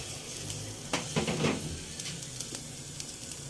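Banana pith, the heart of a banana stem, dropped into a pot of boiling water, producing a brief splash and bubbling sizzle that rises and fades, with light clatter of the pot nearby.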